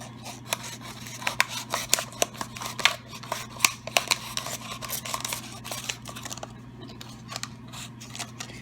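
Scissors snip through a cardboard paper towel roll being repurposed for seed starting, making rapid, repeated crisp cuts at close range with no talking.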